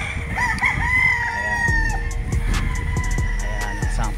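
McLean hatch gamefowl rooster at a game farm in Tanay, Rizal, crowing loudly and close by, with a drawn-out call followed by clucking and other birds in the background.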